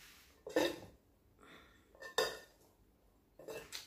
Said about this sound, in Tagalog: haluin muna natin siya ng kaunti para siya mag-mix